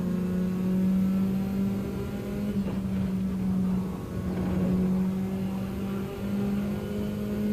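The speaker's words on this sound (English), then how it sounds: "I love the sound of this car." GTC-1 race car on the Deep Forest circuit in a racing game world cup: sustained steady engine drone at high revs with slight pitch shifts, loud and continuous, no talk.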